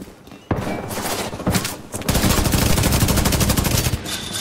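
Rapid automatic gunfire from an enemy turret in The Division 2, loud and close, with a few sharp shots early on and then a sustained, dense burst of fire.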